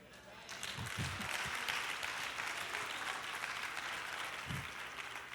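Audience applause at a church gathering swells in and holds steady, broad and somewhat distant, with a few low thumps and murmurs mixed in.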